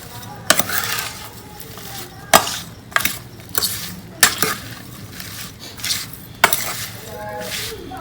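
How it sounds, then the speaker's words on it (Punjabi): A spoon stirs ginger and green chilli pickle with masala and oil in a metal pot, giving repeated sharp clanks and scrapes against the sides between softer mixing sounds, close and fairly loud. "ਹੁਣ ਆਪਾਂ ਇਹਨੂੰ ਚੰਗੀ ਤਰ੍ਹਾਂ ਮਿਕਸ ਕਰ ਲਾਂਗੇ ਜੀ"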